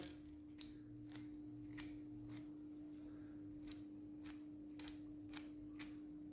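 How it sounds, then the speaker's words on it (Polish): A series of sharp, faint clicks at irregular intervals, small metallic ticks over a steady low hum, as a key slides into a Fiat Seicento's tailgate lock cylinder. "Wkładam kluczyk."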